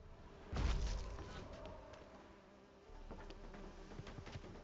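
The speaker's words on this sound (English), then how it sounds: "All these bees though, man" Bees buzzing around in the video game The Witcher 3, a faint steady insect drone with a louder low thump near the start and soft clicks scattered throughout.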